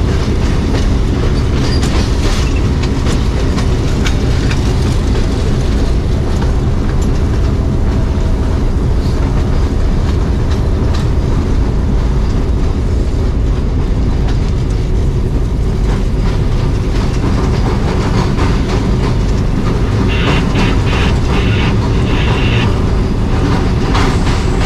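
The Kohat Express rumbles loudly along the rails between Kohat and Rawalpindi, a continuous heavy roar with rhythmic clickety-clack and occasional wheel squeal, heard from inside the moving train with no talking.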